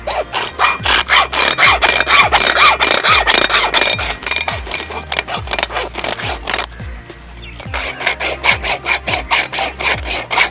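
A hand saw rasps steadily back and forth through a shoe built with a thick steel plate in its sole, giving loud, rhythmic strokes with a brief pause partway before the sawing resumes.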